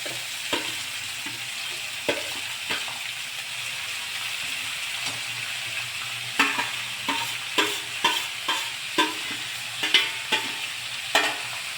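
Chopped spring onions stirred in a frying pan for Khandeshi vangyache bharit, a steady soft sizzle with sharp spatula scrapes that grow regular and rhythmic in the second half, close and clear with no talking.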